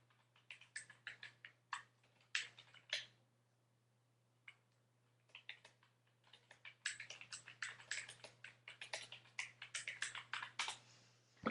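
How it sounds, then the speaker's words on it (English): Typing on a computer keyboard, bursts of close, crisp key clicks in irregular runs separated by short pauses, growing denser toward the end, with a faint steady hum underneath. "I will type this in"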